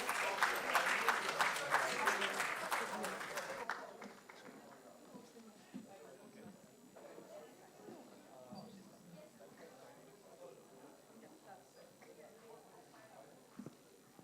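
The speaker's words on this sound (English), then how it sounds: "Please give them a big round of applause." Audience clapping loudly at a stage event for about four seconds, then cutting off abruptly into quiet room murmur with scattered small noises.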